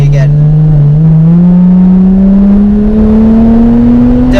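A Toyota Mark II JZX110 with a turbocharged 1JZ engine revs hard in one loud, steadily climbing pull, its tone rising smoothly for several seconds, heard close from inside the car.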